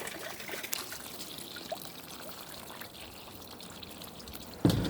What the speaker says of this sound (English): Little water to loosen it up.